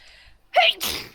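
A single loud, close sneeze from a person, with a sharp inhaled build-up followed by an explosive burst, heard alone during a Minecraft gaming session.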